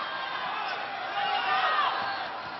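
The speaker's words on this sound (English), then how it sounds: "Crowd reacting." A university volleyball crowd at a UAAP match between UP and Ateneo cheers in a steady, distant roar that swells slightly partway through, with commentators talking over it.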